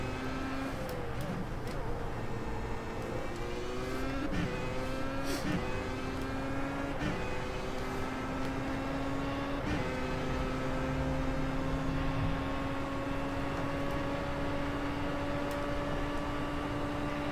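An F1 car engine in iRacing at Spa wails steadily through repeated rising gear pulls with sharp upshift breaks, close and loud, under a constant high whine.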